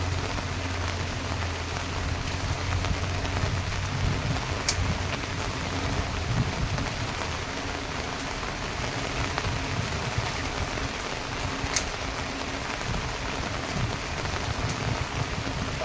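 Heavy typhoon rain pours steadily on surfaces nearby, a dense continuous hiss with a low rumbling undertone that may be distant thunder, loud and unbroken throughout.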